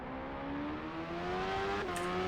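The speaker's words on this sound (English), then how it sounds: "Engine noise doesn't really sound like what I would expect." A race car engine in the rFactor 2 sim racing game at Suzuka drones steadily, its pitch climbing gradually with a brief shift near the end, with no voices.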